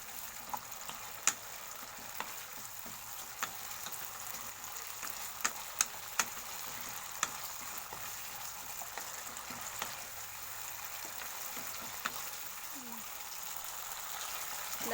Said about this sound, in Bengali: দেখো সামান্য একটু ভাজা ভাজা করে নেব